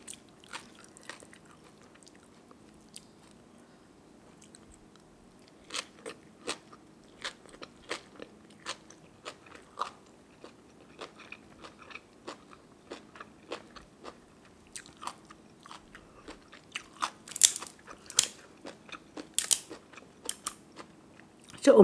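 Grilled chicken liver eaten close up, with soft bites and intermittent crunchy chewing that grows louder and more frequent toward the end, with no talking.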